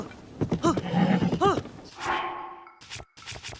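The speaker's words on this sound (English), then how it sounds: "That is a golden horse" Golden horse in the video game Zelda: Tears of the Kingdom letting out a whinnying neigh with several wavering calls, followed by a breathy snort and a few hoof thumps, close and fairly loud.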